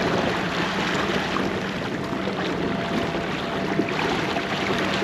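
PacMotor GPS autopilot boat motors turn the craft on open water, giving a steady, unbroken whirr of motor and water noise throughout, close and moderately loud, with no talk.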